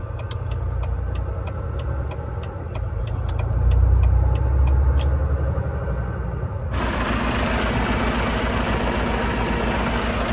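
A truck idles and pulls away gently into a right turn on a remote Colorado desert highway, a steady low engine rumble with a rhythmic ticking like a turn signal, then a broader roar takes over partway through.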